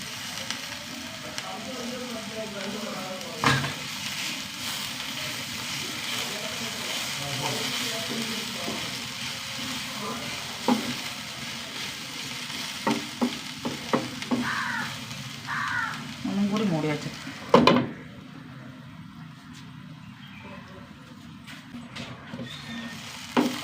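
Cabbage stir-fry with coconut sizzles steadily in a hot pan, a continuous close frying hiss broken by scattered clicks and scrapes of stirring and a sharp knock near the end.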